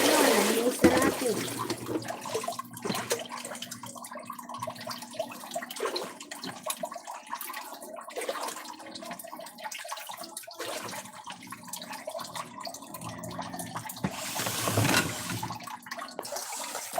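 Water gushes and drains steadily from a kitchen sink just cleared of a rice clog, a continuous close rushing and gurgling with someone talking over it.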